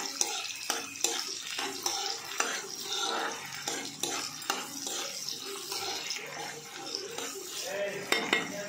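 A spoon scrapes and stirs broad bean and tomato curry in a pan, with repeated metallic clinks and knocks at an irregular rhythm over a faint background sizzle, close and moderately quiet.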